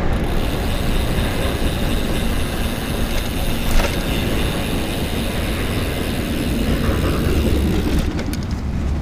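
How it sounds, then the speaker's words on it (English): A train passes near a cyclist's lunch ride, a steady broadband rumble and rush that holds evenly, with a brief clank partway through and a change in tone near the end. "There's a train."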